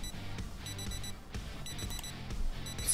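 An in-game alarm in Project Zomboid rings in repeated electronic bursts, a beeping pattern that stops and starts, heard faintly and steadily with no talk over it.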